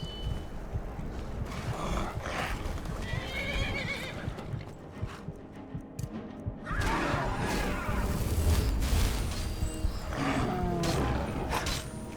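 Horse in the Skyrim video game, loud neighing and whinnying over clip-clopping hooves amid busy game combat noise, continuous throughout.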